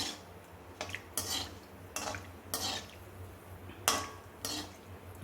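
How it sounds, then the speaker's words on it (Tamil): Lumps of asafoetida frying in hot oil in a pan for Tamil pulikaichal tamarind rice, with a steady low sizzle and several sharp scraping, clinking stirs of a spoon against the metal pan, close up and without speech. "முதல்ல பெருங்காயம் பொரிஞ்சுட்டுருக்கு"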